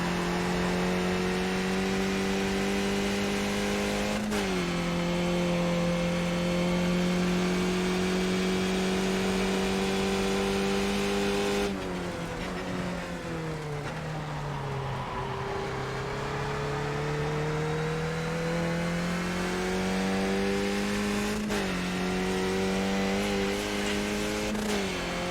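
Skip Barber race car engines in the iRacing sim drone steadily and loudly throughout, with pitch dips and gear-shift steps at several points as cars circulate.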